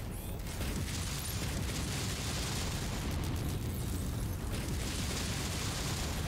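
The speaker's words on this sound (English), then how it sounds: "Ammo explosion." Ammo explosion on a mech in the MechWarrior 5 video game, a dense roaring rumble of blast noise that fills the whole stretch at steady loudness, without a clear single boom.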